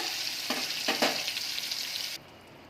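Loud crackling sizzle of ridge gourd and vegetables frying in a pan for sambar, with a few stirring bursts, then the sizzle drops away abruptly near the end.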